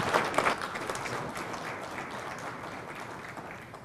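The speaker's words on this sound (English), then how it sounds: "So if everyone give Michael a warm round of applause." Warm audience applause in a lecture hall welcoming a yoga speaker at a talk on yoga for cancer survivors, strongest at the start and then settling into steady, moderate clapping.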